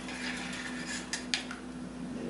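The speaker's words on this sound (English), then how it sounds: "We'll give this a little quick stir." Pasta shells get a quick stir in a cooking pot, giving soft scraping and a couple of light metallic clinks of utensil against pan over a quiet, steady background hum.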